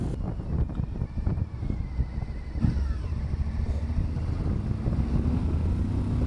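A Suzuki V-Strom 1050 XT motorcycle engine pulling through the revs, a steady rising drone under heavy wind rush from riding, with a gradually climbing pitch.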